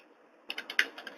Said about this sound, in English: as I start to type